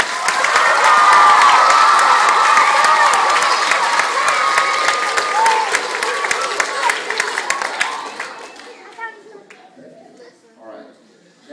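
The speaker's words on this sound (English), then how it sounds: "So one more round of applause for these spellers, please" An audience at a school spelling bee applauds the spellers with a dense burst of clapping, cheers and children shouting that fades after about eight seconds into scattered claps and murmuring voices.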